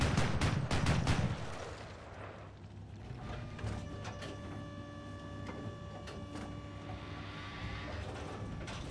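A tank cannon fires in the video game War Thunder: a loud, booming blast opens the clip and decays over about a second, then gives way to a steady engine drone with humming mechanical tones.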